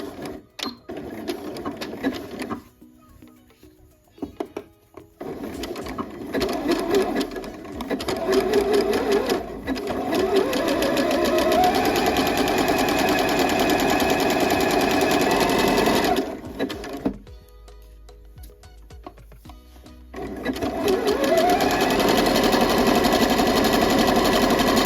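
Sewing machine back stitching a seam on a sweatshirt band, a rapid mechanical whirring in several bursts with short pauses between runs, close and clear.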